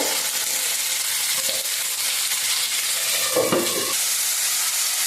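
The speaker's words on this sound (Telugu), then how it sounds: "టమాటాలు అయితే ఈ విధంగా వేగుతా ఉన్నాయండి" Chopped raw tomatoes and green chillies fry in a pan, a loud steady sizzle and hiss with brief stirring scrapes, no voices over it.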